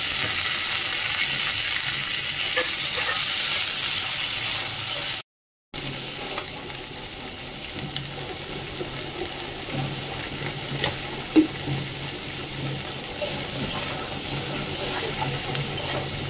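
Vegetables frying and being stirred in a pan, a steady hissing sizzle with occasional scrapes and clinks of the spoon, continuing for a long stretch after a brief cut to silence.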